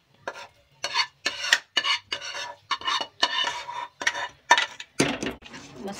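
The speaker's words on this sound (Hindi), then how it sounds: "मसाले को अच्छे से साग में मिक्स कर दूंगी।" Spices being stirred into Punjabi mustard greens saag (sarson ka saag) in a pot: a steady run of about ten close, rhythmic scraping strokes of a spoon through thick greens, heard alone with no talking.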